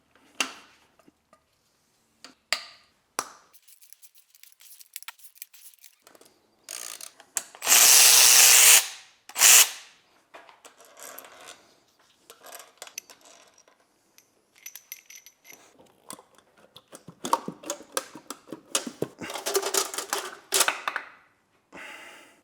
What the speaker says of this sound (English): Now we're going to release cylinder head bolts from 10 to 1.